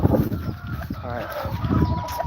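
Farm chickens clucking continuously at close range, with a busy mix of fowl calls that may include a rooster, heard under a steady background of activity.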